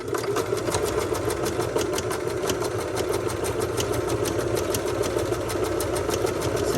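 A sewing machine stitches a bias tape seam in a fold of fabric, running continuously at close range with a rapid, even mechanical whir and a regular ticking of the needle throughout.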